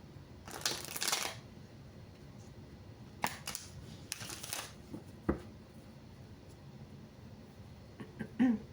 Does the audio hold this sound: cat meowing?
no